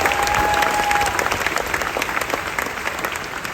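Audience applause for cast members at Disney's Hollywood Studios 35th anniversary presentation: steady, dense clapping from a large crowd that holds throughout and eases slightly toward the end.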